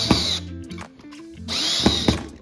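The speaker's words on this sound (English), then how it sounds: "I used an electric screwdriver instead" An electric screwdriver drives screws into table legs, two loud close whirring bursts with a short pause between them as the motor spins up and winds down.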